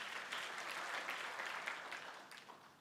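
Applause from a congregation at a praise and worship service: a steady, faint wash of many hands clapping that holds for about three seconds and thins slightly at the end.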